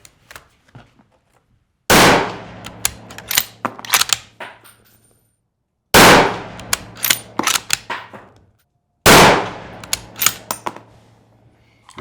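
Three loud, sharp gunshots from a handgun at a target-shooting drill, each spaced about four seconds apart with a long ringing decay and small mechanical clicks trailing after.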